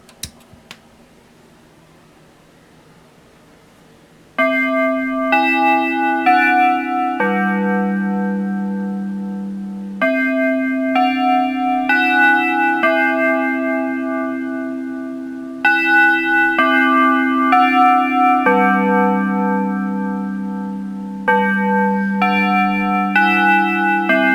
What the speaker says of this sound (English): And then start the chime in slot D